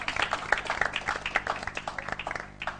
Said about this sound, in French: Applaudissons les deux équipes.